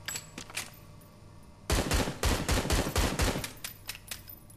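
Pistol gunfire in the VR shooter Hard Bullet: a few scattered cracks, then a rapid, loud run of about eight close shots in quick succession.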